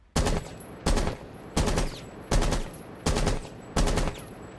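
Six evenly spaced bursts of rapid gunfire in Rainbow Six Siege, each a short loud volley of several shots followed by a brief decaying tail, repeating roughly every three quarters of a second.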